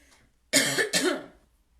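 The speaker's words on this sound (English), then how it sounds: "I'm going to cough" Two sharp coughs in quick succession, close to the microphone, the second slightly softer and trailing off.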